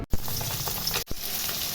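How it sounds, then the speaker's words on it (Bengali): Turmeric-coated pabda fish frying in oil in a pan, a steady close sizzle broken by two short clattering cuts, no speech. "মাছ ভাজা হচ্ছে"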